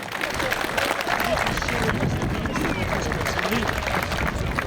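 A crowd at a Dynamo Kyiv veterans' football event in Novyi Buh applauds the team captain, giving steady, dense clapping that fills the whole stretch with a murmur of crowd babble mixed in.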